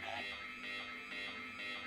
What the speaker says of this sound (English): Let's get the alarm going one more time and see what the speaker robot does.